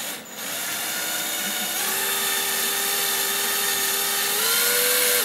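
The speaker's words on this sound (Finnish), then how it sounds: "porataan" A power drill whirs steadily, rising slightly in pitch as it bites in, loud and close with a grinding rasp underneath.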